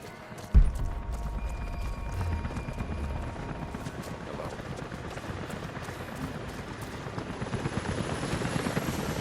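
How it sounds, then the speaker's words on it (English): A helicopter's rotor thuds steadily and loudly throughout, after a sharp thump at the start, in the video game Rise of the Tomb Raider. "helicopters are headed your way."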